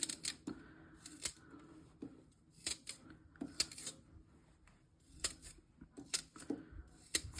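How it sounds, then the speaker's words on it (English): Fresh rhubarb is chopped for a crumble, a string of crisp, sharp cuts in quick irregular bursts, faint and close with quiet gaps between. "I'm just cutting it for the rhubarb crumble"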